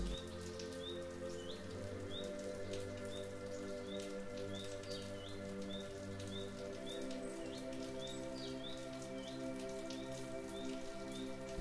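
Rain falls steadily as an even, close patter across the whole stretch, with a bird's brief chirps repeating regularly in the background and no voices.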